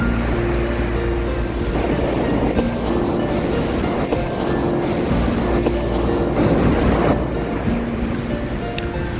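Andaman Sea waves rolling onto steep Surin Beach in Phuket, a loud continuous surf roar with breaking swells and wind buffeting the microphone, no voices.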